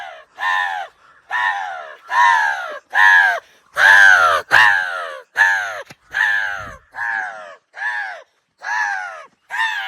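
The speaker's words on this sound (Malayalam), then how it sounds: "രണ്ട് കാക്ക വന്നിട്ടുണ്ട് ഗൈസ്" A series of loud, harsh crow caws repeating at a steady rhythm, close by and clear, with no talking, at Banasura, Wayanad.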